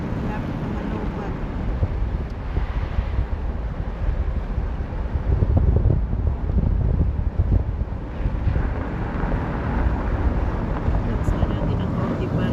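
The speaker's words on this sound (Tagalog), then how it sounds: "Maingay kasi yung hangin." Wind buffets the microphone in a constant low roar, swelling louder in the middle, with engine-like rumble underneath and no clear speech.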